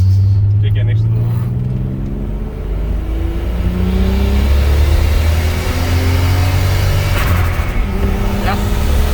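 A turbocharged VW VR6 car engine revs loudly and steadily at close range, rising and falling through several climbing pitch sweeps in a garage by a wall, with brief background voices.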